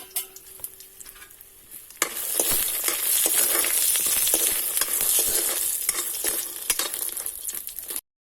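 Vadi pieces fry in hot oil in a kadhai for a Chhattisgarh-style chench bhaji dish, a quiet sizzle swelling into loud, dense crackling that continues steadily with occasional stirring scrapes close by.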